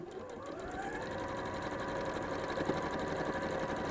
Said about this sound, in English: So all I'm doing is just sewing up the side seams at the moment.